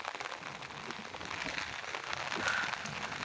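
Heavy rain pours down over farm fields in a steady, even hiss of water on surfaces, moderately loud and unbroken, with no one speaking.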